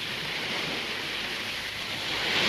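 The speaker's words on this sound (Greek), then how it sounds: "Μιλάει η θάλασσα." Steady, broad sea wash with a constant hiss of surf and no distinct breaks, rising slightly in loudness toward the end.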